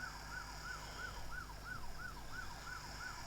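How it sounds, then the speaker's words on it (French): A police car siren in a patrol game wails in quick, regular rising-and-falling sweeps, about three per second, steady and fairly faint over a low engine hum. "Allez, petite sirène."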